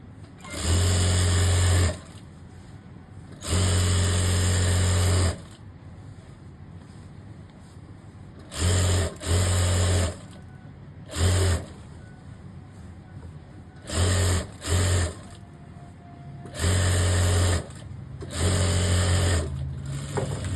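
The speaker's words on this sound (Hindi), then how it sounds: "अब इसके बाद हम एक सिलाई लगा लेंगे किनारे की" Sewing machine stitching the edge seam of a pant, in repeated close bursts: several long runs and a few short ones, each a loud steady whir with a low hum, separated by quieter pauses with faint handling noise.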